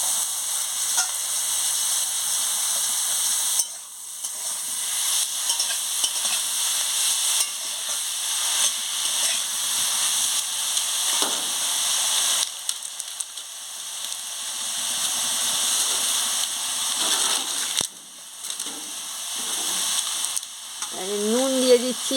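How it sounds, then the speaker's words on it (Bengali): Eggplant and potato pieces hit a pan of fried onions and sizzle loudly, a dense steady hiss that dips briefly when stirred, heard close and uninterrupted by talk. "পেঁয়াজটা ভাজা হয়ে গেছে, এবারে বেগুন আলু তুলে দিচ্ছি।"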